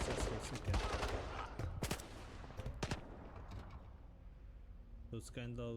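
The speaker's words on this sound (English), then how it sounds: "Leaving the base, I hear shots." In the video game Stalker 2, gunshots crack out as a series of sharp, irregular bursts, loud at first and then spread apart, with a brief electronic tone near the end.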